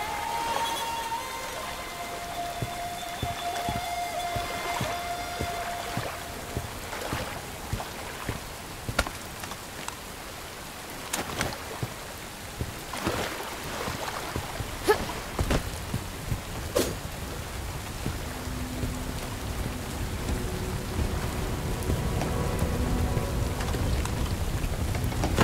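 Steady rain pours in the video game Bright Memory Infinite, a dense hiss filling the background with a few sharp cracks and low thunder rumbles rolling in, growing heavier toward the end, with no voices.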